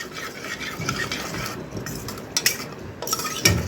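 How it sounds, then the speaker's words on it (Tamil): Masala is stirred and sautéed in oil for a village-style mutton head curry, with close scraping of a spatula and clinks of metal against the pot over a faint frying sizzle. "இப்போ எண்ணெய் பிரிகிற வரைய அப்படியே நம்ம எண்ணெயிலே இந்த மசாலாவை நம்ம வதக்கணும்"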